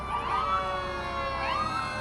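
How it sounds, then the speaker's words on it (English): A Hegan Fire Department engine and ambulance at a St. Patrick's Day parade sound a wailing siren, rising and falling pitch sweeps repeating over steady engine rumble. "The Hegan Fire Department, one of their engines, followed by their ambulance."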